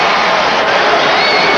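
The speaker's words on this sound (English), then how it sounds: "Crowd reacts with Michael Jordan called for his 4th foul" Basketball arena crowd roaring in reaction to a foul call during the 1992 NBA Finals between the Chicago Bulls and Portland Trail Blazers, a dense, loud, continuous wash of crowd noise.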